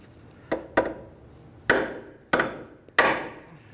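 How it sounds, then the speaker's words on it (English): A hammer strikes the castle nut on a ball joint from below during lower control arm replacement on a 2003-2011 Honda Element, giving five sharp metallic whacks at irregular intervals, close and fairly loud with no talk. "take a hammer and hit the ball joint from the bottom on the castle nut"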